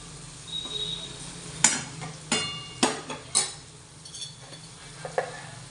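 A bean vegetable curry being stirred in a pan, with several sharp scraping clacks of a spoon against the metal over a faint sizzle, spaced irregularly, with no voices.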